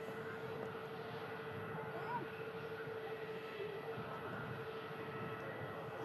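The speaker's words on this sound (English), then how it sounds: "Beautiful departure from the 350 there." An Airbus A350 departs as a faint, distant, continuous engine rumble with a thin steady whine on top, low and even throughout, while a voice murmurs now and then.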